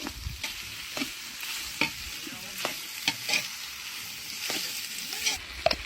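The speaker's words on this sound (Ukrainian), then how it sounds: "Обсмажуємо наше сало. Додаємо копчене сало." Smoked pork lard frying in a pan for Cossack kulish, a close continuous sizzle broken by repeated sharp clicks and scrapes of stirring, no voices.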